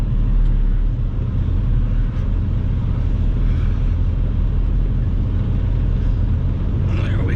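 A truck's engine rumbles steadily and loudly up close as the truck is driven onto a trailer on soft, rutted ground, with a voice faintly under the constant drone.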